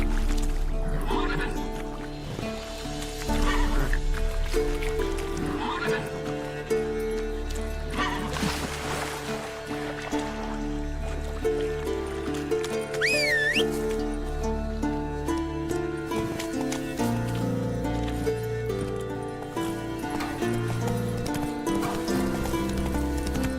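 Roach the horse in The Witcher 3 gallops with steady clip-clopping hooves and gives a couple of neighs, set against a full orchestral game score that stays loud throughout.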